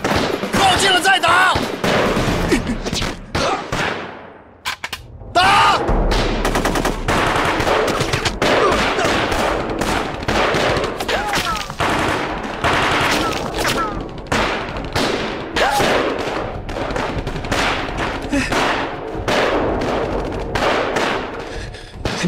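Dense gunfire and rattling machine-gun bursts from an ambush in a wartime Chinese spy drama roar almost without pause, loud and close, with sharp cracks and heavy thuds piling over one another.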